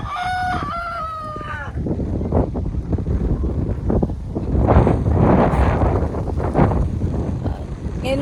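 Gusty wind buffets the microphone in heavy, uneven bursts on Siquijor Island after a rooster crows at the start.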